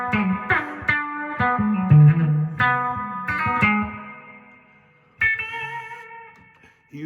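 An electric guitar plays a series of bright plucked notes and short phrases, each ringing out into a long, washy reverb tail, with brief silences between.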